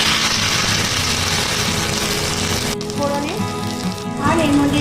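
Ginger paste hits hot oil in a tadka pan for khichuri and sizzles loudly and steadily, then the hiss dips briefly before bubbling on alongside faint clinks.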